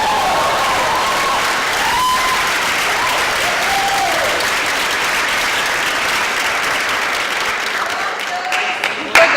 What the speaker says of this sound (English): The really loud cheering,